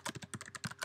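Quick, close clicking keystrokes on a computer keyboard, about a dozen taps in under a second at an uneven rhythm, quiet and alone.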